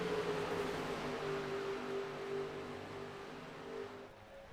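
NASCAR race cars in the iRacing video game at Daytona: a steady engine drone with a humming tone, fairly quiet and slowly fading, with no talk.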